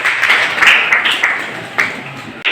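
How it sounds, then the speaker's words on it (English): A school audience gives a short burst of applause after a grade 9 news review presentation, a loud, even wash of clapping with no one speaking. "Please give them the hand of applause."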